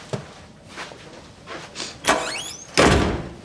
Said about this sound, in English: Maybe I'll start the cue on that door slam.